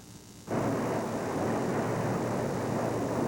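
Cargo aircraft arriving at Tirana airport in Albania with emergency supplies, a loud engine roar that cuts in abruptly after a quieter opening and then holds steady and close.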